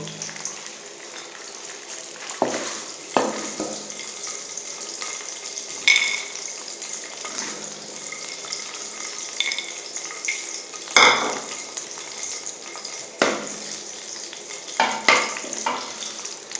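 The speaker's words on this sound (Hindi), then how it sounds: "एक से 2 मिनट तक इसको फ्राई करेंगे बादामों को" Almonds frying in ghee in a pan: a steady close sizzle runs throughout, broken by occasional clinks and scrapes of stirring, with no talk.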